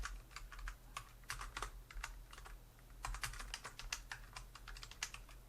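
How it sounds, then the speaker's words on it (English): Quiet, irregular clicking of keys on a computer keyboard, typed in short bursts over a low background hum, with no voices. "I'm going to start typing Mama D's Pizzeria"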